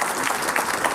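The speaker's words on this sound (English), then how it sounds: "Can we get a round of applause, guys?" Audience applause greeting historian and author Professor Yuval Noah Harari on stage, a steady, dense round of clapping from a crowd, fairly loud and continuous throughout.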